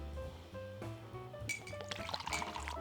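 Crystal Head vodka glugs unevenly out of a skull-shaped glass bottle, a close, bubbling trickle of liquid with a faint clink of glass near the end.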